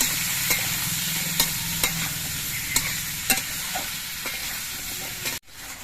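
Cucumber pieces stir-fry in a pan with nigella seeds and green chilli, giving a steady close sizzle broken by regular scraping clacks of a stirring spoon. The sizzle cuts off abruptly near the end.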